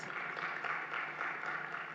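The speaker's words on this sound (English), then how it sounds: "A round of applause." Steady, dense applause from a symposium audience on privacy and data protection, a continuous even wash of many hands clapping at moderate distance for the full stretch, with no speech over it.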